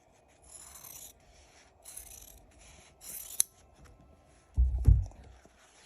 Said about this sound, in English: get a nice pair of scissors, and trim off my corners.